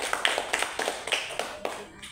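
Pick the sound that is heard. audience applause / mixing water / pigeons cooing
audience applause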